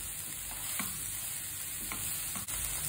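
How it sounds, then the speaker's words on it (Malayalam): Cabbage stir-fry for Kerala-style cabbage upperi sizzles steadily in an uncovered pan while a spoon stirs it, giving a few soft scraping strokes over the continuous frying hiss, close and fairly loud with no talking. "മൂടി വെക്കാണ്ട് തന്നെ ഇങ്ങനെ ഇളക്കിക്കൊണ്ടിരിക്കണം."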